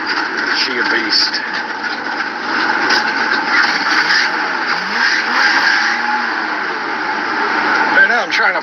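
A work truck's engine runs with a rough, lumpy idle and blips of revving under loud talking throughout, the steady mechanical drone choppy and uneven.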